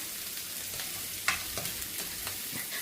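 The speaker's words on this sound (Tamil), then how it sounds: "இந்த வெங்காயம் ஒரு ஒரு அஞ்சு நிமிஷத்துலேயே வதங்கிடும்" Onions sauté in a pan for devilled chicken, a steady quiet sizzle broken by occasional sharp scrapes and taps of the stirring spoon, close by with no one talking.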